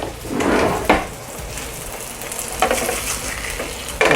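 Fish sizzles steadily in a frying pan, a close, continuous crackle broken by a few sharp clinks of a utensil against the pan.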